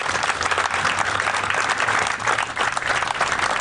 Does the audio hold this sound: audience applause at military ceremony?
yes